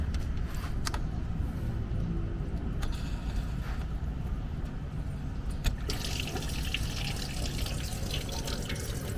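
Water running and splashing as dirty rinse water drains out during cleaning of a GE air conditioner, a steady close wash of liquid noise throughout, slightly brighter toward the end, with no voices.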